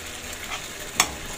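Egg stew stirred in a pan over low heat, a soft continuous sizzle with faint scraping and a single sharp clink of a utensil against the pan near the end.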